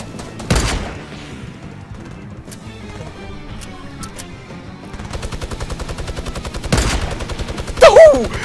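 Fortnite gunfire crackles in scattered single shots, then a rapid automatic burst sets in midway, with a few sharper booming hits; loud and close throughout.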